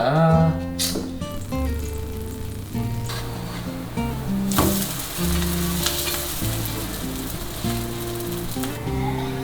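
Idli batter spread as a dosa fries on a hot pan with a loud close sizzle, while music plays underneath and a few sharp clinks cut through.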